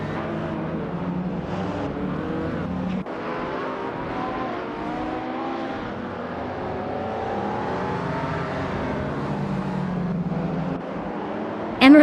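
A 1985 Lamborghini Countach LP5000 QV race car launches off the line, its engine droning and rising in pitch through steady revving, loud and continuous, ending in a sudden louder burst.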